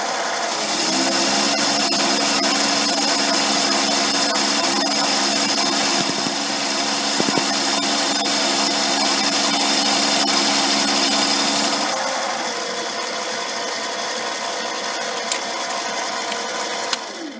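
A metal lathe takes a light finishing pass on a steady rest part, with a loud, steady mechanical whine and hum that drops to a lower, quieter drone about two-thirds of the way through.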